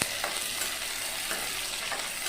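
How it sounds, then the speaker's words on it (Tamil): Chopped tomatoes fry with browned onions in a pan as the base for a jackfruit kurma, giving a continuous close sizzle with light crackles and no voices. "அடுத்து அதில் ஒரு 2-3 தக்காளி எடுத்து நான் கட் பண்ணி சேர்த்துக்கிறேன்."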